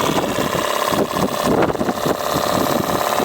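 A Stuart Star model steam engine runs fast on about 25 psi of steam aboard a model boat, giving a steady, rapid mechanical chatter and hiss that stays loud and close throughout.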